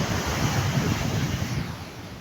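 Sea waves roll onto a beach in a constant broad wash of surf mixed with wind rumble on the microphone, loud and unbroken.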